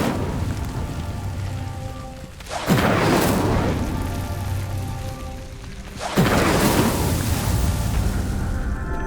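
Incendio fire spell igniting pyres in the video game Hogwarts Legacy: two loud whooshing bursts of flame, each swelling then fading into a crackling roar, over a steady ambient game backdrop.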